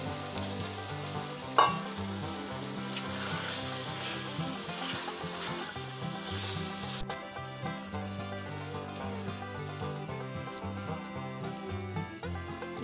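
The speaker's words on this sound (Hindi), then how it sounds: "ये दाल को अच्छी तरह मसाले में भूनेंगे।" Chana dal stirred and fried in masala for a chana dal gosht curry, giving a steady close sizzle with scraping stir strokes throughout and one sharp clack early on, no voices.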